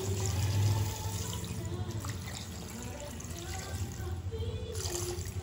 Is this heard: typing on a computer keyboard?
no